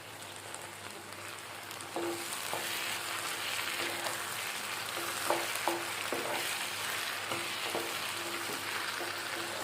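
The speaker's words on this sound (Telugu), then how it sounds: "ఉల్లిపాయలు వేగిపోతాయి, దొండకాయలు కూడా ఇలా వేగిపోతాయి. అల్లం పేస్ట్ 1 స్పూన్ వేస్తున్నాను." Onions, ivy gourd and a spoonful of ginger paste fry and sizzle steadily in a pan, a constant bright crackle with a few soft clinks of stirring scattered throughout.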